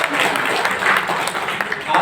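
An audience at a Dahua roadshow claps in a dense, steady patter of applause, with a voice speaking over it.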